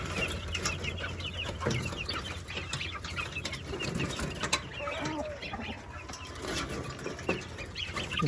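Chicks and ducklings chirping and peeping together in a farmyard, a continuous busy chorus of small high calls with clucking, close and lively, no talk.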